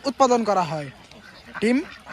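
A duck quacking on a duck farm, two close, loud nasal calls, the first drawn out and the second short, with a voice speaking nearby.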